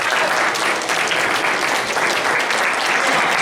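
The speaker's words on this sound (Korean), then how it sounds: "앞으로 모실 때 박수 한번 주시면 좋을 것 같습니다" Church congregation at a Sunday youth service clapping in sustained, dense applause that stays loud and steady throughout, with no clear speech over it.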